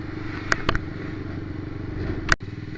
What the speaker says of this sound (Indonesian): Ya lumayan lah motor ini buat jarak jauh.